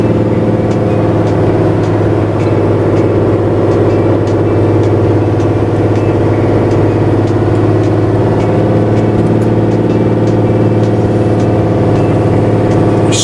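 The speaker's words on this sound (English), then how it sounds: "That's the exhaust brakes you can hear." Loud, sustained engine drone of a truck on a narrow road, its exhaust brakes holding a deep steady rumble with a rapid pulsing rattle throughout, close and continuous without talk.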